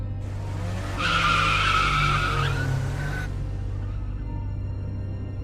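A car accelerating hard and speeding off down a street, a loud roaring surge with squealing tyres for about two seconds that then fades away.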